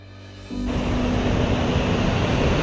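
Water rushes at Magodu waterfall after heavy recent rain. A loud, broad, steady roar starts abruptly and continues unbroken.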